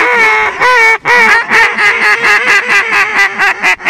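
Ducks quack loudly and continuously during a duck hunt, many overlapping calls in a fast, steady chatter that fills the whole stretch, close and dense, with no talking.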